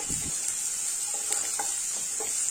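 Finely chopped small shallots frying in hot oil for a mutton gravy, a steady bright sizzle with a few soft stirring scrapes near the start, close and continuous.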